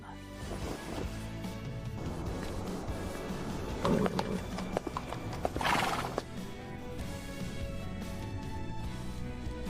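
Horse hooves clip-clopping and galloping, with a loud whinny midway, set in a period Chinese drama and layered over a background music score.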